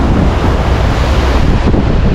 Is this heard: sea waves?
yes